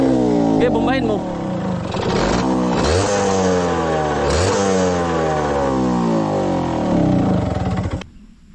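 A close, loud engine revs up and down several times, rising and falling in pitch, then cuts off abruptly at the end.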